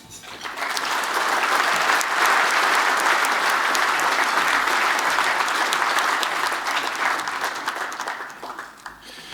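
Sustained applause from a lunch audience after a state budget address, a dense steady clatter of many hands clapping that swells quickly, holds for several seconds and tapers slightly at the end, with no talk over it.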